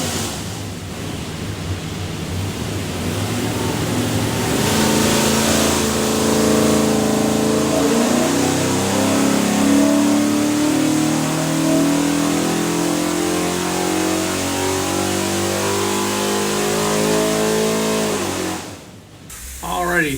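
A 363ci small block Ford with a custom-grind hydraulic roller cam, built for a '66 Mustang, revs hard on a dyno, pitch climbing steadily for about fifteen seconds before cutting off, loud and close.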